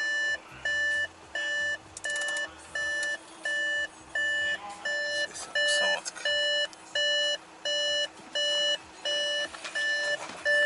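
Electronic warning chimes from the instrument cluster of an Audi A6 2.0 TDI sedan, a steady train of evenly spaced two-tone beeps repeating about once per second throughout, close and clear over a low engine hum.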